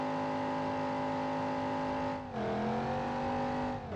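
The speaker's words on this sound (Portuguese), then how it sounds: "vamos acelerar o carro para ver qual é que vai ser dele." A Dodge Charger RT accelerating in BeamNG.Drive, its engine holding a loud steady roar, dipping briefly as it shifts gear and then pulling again.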